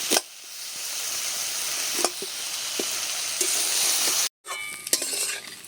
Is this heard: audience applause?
no